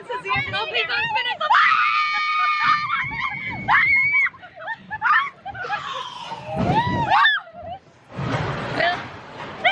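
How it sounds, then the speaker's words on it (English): Shrill, wavering screams from a rider on a theme park ride at Disney's Animal Kingdom in Dinoland U.S.A., loud and close, broken by laughter and chatter from the people riding along. "Your scream is hilarious."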